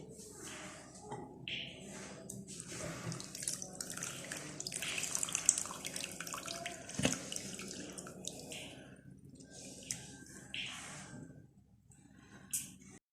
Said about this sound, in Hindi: 2 दफ़ा आप इन करेलों को धो लें